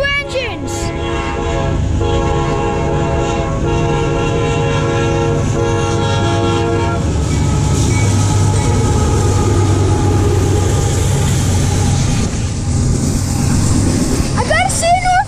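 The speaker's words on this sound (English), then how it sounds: "Here comes a CSX train." CSX intermodal freight train with two locomotives passing close by, a loud horn blast sounding at the start, then heavy rumbling engines and rolling wagons with wheel clatter continuing steadily.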